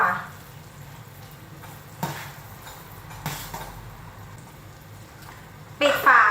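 A spoon stirs tapioca pearls boiling in a pot, giving a few short clinks and scrapes over a low, steady simmer, with a louder knock near the end.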